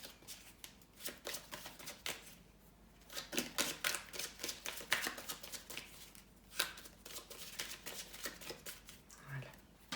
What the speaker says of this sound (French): Je vais mélanger les cartes et je vais couper pour ensuite disposer